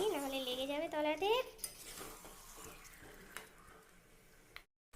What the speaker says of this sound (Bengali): আবারও চলে এলাম রান্নাঘরে, একটু নেড়ে দিই, নাহলে লেগে যাবে তলাতে।